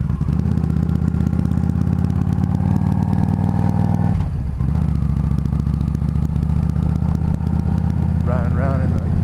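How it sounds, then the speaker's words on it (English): Motorcycle riding through the southern part of Fairbanks, Alaska, its engine droning loud and steady close by, with a brief dip in the middle and a revving rise near the end. "Riding around in the southern part of Fairbanks in the hood."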